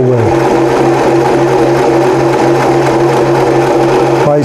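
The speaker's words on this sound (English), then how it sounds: "simply take some fabric, put it in the machine. Put your foot down, press the button," A beginner sewing machine runs steadily through fabric, a loud continuous motor whir with a stable hum that stops near the end.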